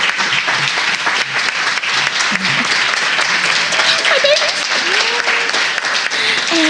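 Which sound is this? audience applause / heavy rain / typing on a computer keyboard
audience applause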